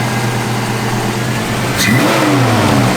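Fuel-injected engine of a 1965 Ford Mustang 2+2 restomod running loud and close, with a steady drone that rises into a quick rev near the end.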